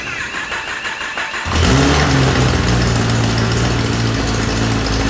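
A 2017 Z6 motorcycle engine fires up inside a closed garage after a quiet start, then settles into a loud, steady idle with a strong low rumble that continues to the end.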